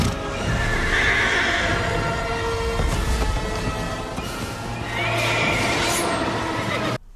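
Horse neighing loudly and close, a long whinny over clip-clop hoofbeats and a rumbling background, with a second whinny swelling near the end before an abrupt cut.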